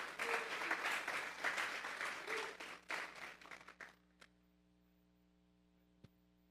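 A church congregation applauds with dense, steady clapping for about four seconds that thins out and stops, leaving a low mains hum and a faint tick in the quiet that follows.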